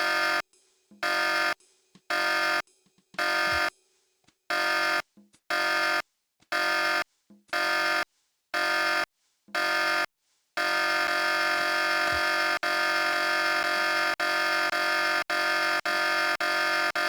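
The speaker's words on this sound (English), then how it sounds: "Sounds like I got that alarm turned off." Alarm buzzing in the game Tex Murphy: The Pandora Directive, loud repeated on-off pulses about twice a second for ten seconds, then one steady unbroken tone that continues to the end.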